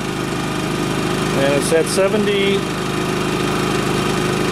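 A Champion 3500 watt dual fuel generator runs in economy mode about four feet away, a loud steady engine drone throughout while a person speaks briefly over it.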